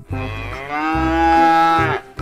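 A large, fat black mother cow moos loudly and close by, one long drawn-out low call lasting about two seconds, with a short start of another call right after.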